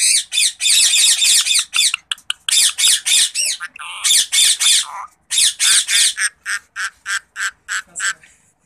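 A ring-necked parrot, a female, squawks and makes laughing calls up close, loud harsh bursts repeated in quick succession and then settling into a steady run of shorter, evenly spaced squawks.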